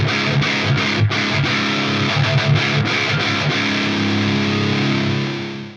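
High-gain electric guitar through an overdrive pedal, playing a heavily distorted metal riff with chugging palm-muted notes and ringing chords, loud and upfront with no talking, fading at the end.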